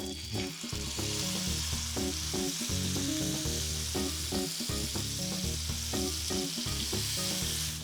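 Steak sears in a medium-hot pan with rapeseed oil, a loud, continuous sizzle layered with busy crackling and spitting, close up and unbroken by any talk.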